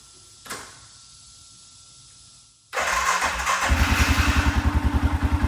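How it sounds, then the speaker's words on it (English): An Arctic Cat Mud-Pro's starter whirs briefly before the engine catches and fires, settling into a loud, close, throbbing idle with a steady pulsing rhythm. "will this thing still crank up?"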